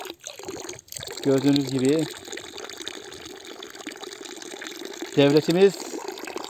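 Water runs steadily from a forest fountain built by Turkey's forestry directorate near Erbaa, a continuous trickling flow under someone speaking.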